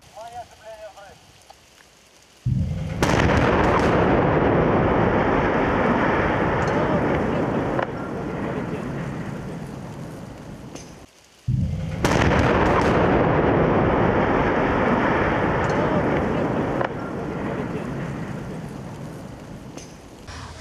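Explosive charges bring down the spans of a bridge over a river, two massive blasts a few seconds apart, each swelling into a long, loud roar and rumble of falling debris that fills the air.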